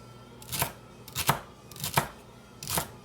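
Knife chopping through celery stalks on a cutting board while making Cajun gumbo at home, four distinct sharp chops spaced roughly evenly, close and clear with no talking.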